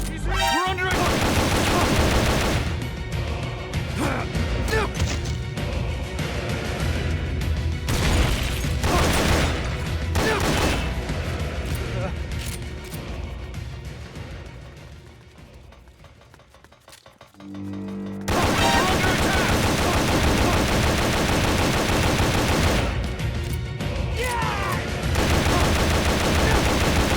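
Sustained gunfire in Metal Gear Solid: Peace Walker, dense rattling bursts of shots and clinks under loud game sound, thinning to a lull in the middle before the firing resumes loudly.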